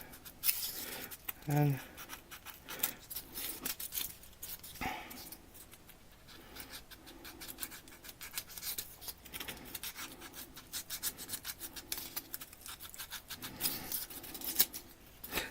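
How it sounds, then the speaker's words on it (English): An X-Acto knife cuts at a craft piece for model dead trees, giving faint close scratching and scraping strokes scattered through the clip, with a person talking over them. "so I'm just going to use my handy dandy X-Acto knife"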